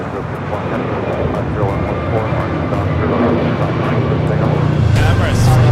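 Jet airliner at LAX airport, a steady loud engine roar that stays continuous throughout, with a radio voice talking over it.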